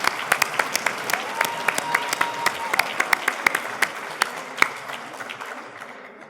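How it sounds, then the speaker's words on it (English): An audience at a police reserve foundation charity auction breaks into applause. The clapping is brisk and mid-distance, with some sharper hands standing out, and it fades toward the end. "How about a round of applause for this gentleman right here?"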